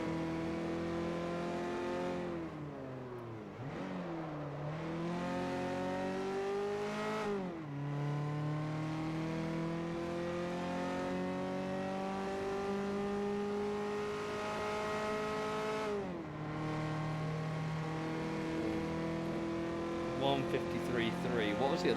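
In Forza Motorsport 4, a supercharged car's engine holds a steady, rising whine, dipping and climbing again with gear changes through a long run. Someone talks over the engine now and then.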